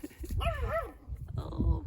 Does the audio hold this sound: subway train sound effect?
no